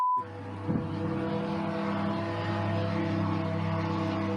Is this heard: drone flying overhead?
yes